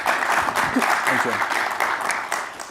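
An audience claps steadily through a panel session at a political summit, a dense, even wash of applause with a voice speaking briefly over it.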